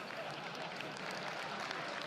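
A keynote audience claps together in a dense, even, continuous patter that sounds somewhat distant and subdued, with no voice standing out above it.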